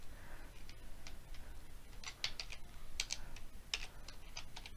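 Fingers tap steadily on a computer keyboard, a quiet, close run of soft clicks with a few sharper keystrokes and no voice over them.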